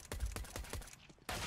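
Rapid gunfire from the video game Counter-Strike: Global Offensive during a professional IEM Cologne match, a quick burst of several sharp shots followed by another loud blast, with no talk.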